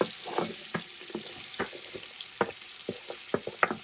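Pepper sizzles in a pan for rice noodles with beef and shrimp, a steady bright frying hiss punctuated by regular sharp crackles and stirring clicks, close and fairly loud.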